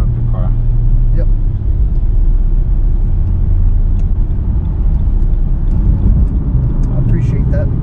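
A 2013 Ultra White Lexus IS-F sits idling just after start-up, a steady low engine rumble running throughout with people talking nearby over it.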